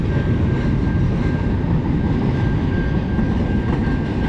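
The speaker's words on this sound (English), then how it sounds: "The train goes by like every freaking hour almost." A long train rolling steadily past at close range, a dense, continuous rumble and rattle of railcars with a thin high whine running through it and no break in the noise.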